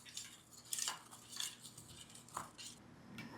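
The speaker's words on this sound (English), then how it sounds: "And then we'll add 1/4 cup sesame seed. And we'll just mix all of this." A spoon clinks and scrapes against a bowl in quick irregular strokes while sesame seeds are stirred into chili crisp, close and fairly quiet with no talk.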